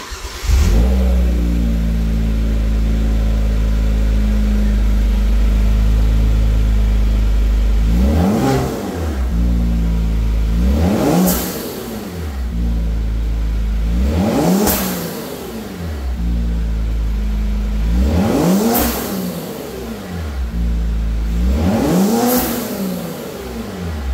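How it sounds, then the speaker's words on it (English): A Genesis G70 engine fitted with a custom front-mount intercooler idles steadily, then revs sharply several times in a row, each rev rising and falling back to the idle, close and loud. "turn it on, give you a nice few revs"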